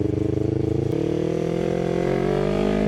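A Yamaha R3 V2 sport motorcycle engine runs steadily at close range, a loud, throbbing drone that stays even throughout.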